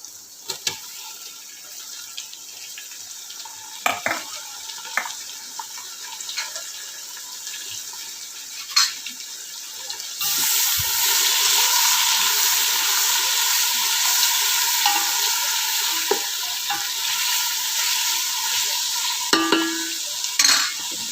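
Chopped tomatoes are dropped into a pan of frying prawn rice and stirred, with scattered spoon scrapes and clinks over a soft sizzle that swells to a louder, continuous hiss partway through.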